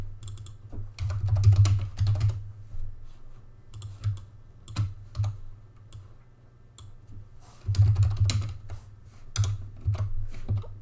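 Rapid bursts of typing on a computer keyboard while setting up a trifold brochure layout, with dense clusters of key clicks broken by short pauses, close and moderately loud, with no talking.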